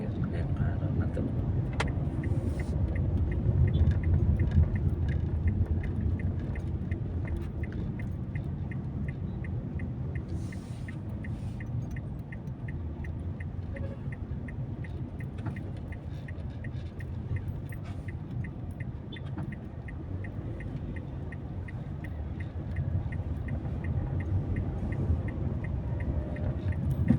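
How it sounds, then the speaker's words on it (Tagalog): Steady low engine rumble of dense road traffic in Quezon City, with a constant drone of many vehicles crawling near the Fairview circle, continuous and moderately loud throughout. "sobrang dami po sasakyan ngayong araw na to."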